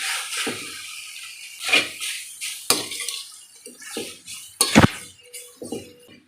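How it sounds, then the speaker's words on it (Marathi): Boiled noodles for veg Hakka noodles being tossed and stirred in a pan: a series of irregular metallic clinks and scrapes of a utensil against the pan, with short pauses between them, close and fairly quiet. "आता आपण या सगळ्या नूडल्स इथे घालून घेणार आहोत आपल्याला छान या परतवून घ्यायच्या आहेत"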